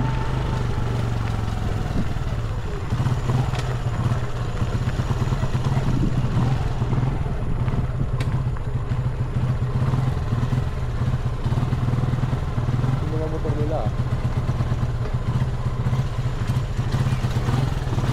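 A motorcycle engine idles and putters on a rough road under construction near a hammock base camp, a steady low drone with occasional clatter and faint background activity.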